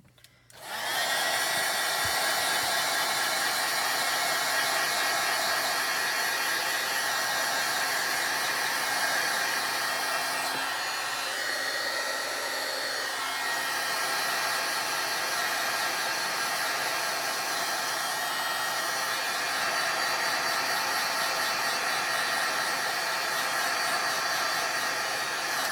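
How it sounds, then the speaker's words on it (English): Heat tool drying stamped ink on a craft card, a loud, steady, close blowing hiss that starts abruptly and runs unbroken throughout, with no talk. "The next step, if you want to dry it with a heat tool,"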